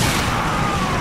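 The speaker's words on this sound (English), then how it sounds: "Probably just throw a grenade." A grenade blast in the game Resident Evil Revelations: a loud, dense, rumbling roar that fills the whole short stretch without pause.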